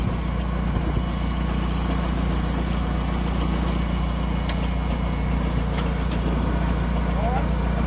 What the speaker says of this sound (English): Go ahead and operate the PTO too, Don.